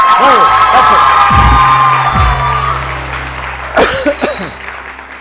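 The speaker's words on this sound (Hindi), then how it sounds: "आज आप लोग इतनी तालियां बजाएंगे" A TV morning show studio audience cheers and claps, a loud burst of whoops and shouting that fades down, then a second short flare of cheering rises briefly before settling.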